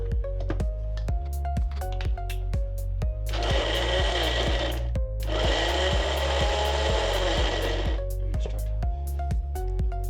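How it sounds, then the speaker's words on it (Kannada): A kitchen mixer grinder whirs loudly in two bursts, grinding tomato, cinnamon, cloves, cardamom, ginger, garlic, coconut and coriander into paste, with a steady rhythmic machine thumping running throughout. "ಇದನ್ನು ನಾವು ಫಸ್ಟ್ ಮಿಕ್ಸಿ ಮಾಡ್ಕೊಳ್ಳೋಣ"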